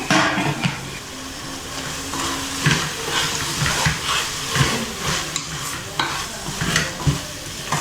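Fresh coriander and mint leaves for mutton biryani sauté in a hot pan, with a steady crackling sizzle and repeated scraping stirs of a spoon against the pot, close and fairly loud, with no voices.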